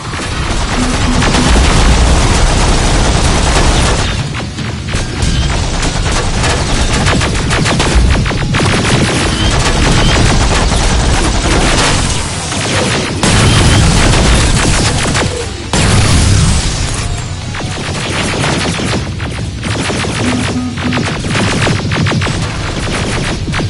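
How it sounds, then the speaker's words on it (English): Gunfire and explosions in the video game Terminator Resistance: a dense, loud, continuous barrage of rapid shots and heavy booms, with only brief dips in intensity. "Don't stop shooting!"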